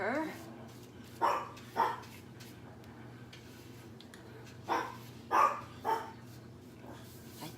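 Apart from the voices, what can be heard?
dog barking to go out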